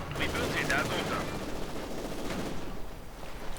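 Maxim machine gun fire in a World War II strategy game, rapid bursts of shots crackling over a low rumble of battle, moderately loud and partly overlapped by commentary-like voice sounds.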